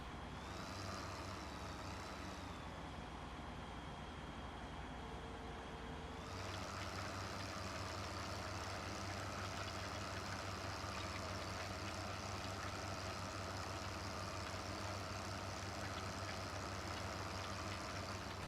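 A tractor engine runs in the Farming Simulator 15 farming game, a steady droning idle-like hum throughout, with a pitch shift partway through as the load changes.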